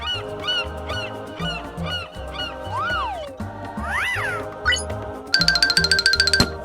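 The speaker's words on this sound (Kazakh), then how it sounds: "шағала" Seagull calls: a busy series of mewing, wailing cries and harsh honking squawks, loud and close, closing with a fast rattling chatter, with no talking.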